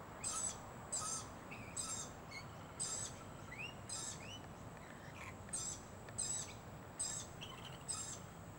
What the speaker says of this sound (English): That sound is their friendly sound when they want the other bird to follow.